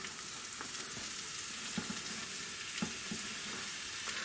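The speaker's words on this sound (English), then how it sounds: "now we're going to go ahead and add our onions and peppers here" Onions and peppers fry in melted butter for a venison cheesesteak, a steady close sizzle throughout with a few faint taps and shuffles of stirring, no voices.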